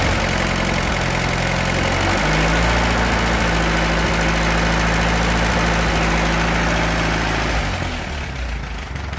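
Allis Chalmers B tractor engine idling steadily up close, a continuous low rumble with a slight uneven knock, running alone without voices before easing slightly at the end.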